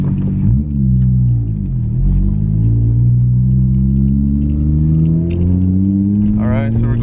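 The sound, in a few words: manual car engine revving to 3,000 RPM before shifting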